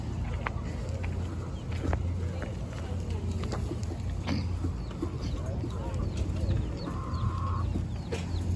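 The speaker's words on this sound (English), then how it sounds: "Look at all those chickens." Chickens cluck and squawk intermittently nearby amid outdoor background noise, with a brief higher call standing out near the end.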